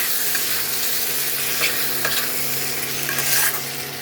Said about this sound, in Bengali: তেল ছেড়ে দিয়েছে, এখন আমি আলুগুলো দিয়ে দেবো, দিয়ে ভালো করে মিশিয়ে নেব